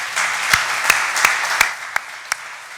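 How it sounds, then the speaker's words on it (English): Audience applause at Agri Expo at the close of a talk on land, farming and feeding the future: steady broadband clapping from a crowd in a hall, fairly close, with several sharper individual claps standing out and tapering near the end. "A round of applause for our"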